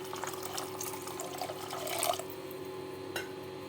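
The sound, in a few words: pouring water into soaked rice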